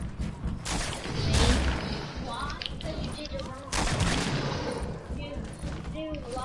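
Bursts of AK rifle fire in a shooter video game crack out in two loud volleys, with a voice talking over the noisy, dense mix.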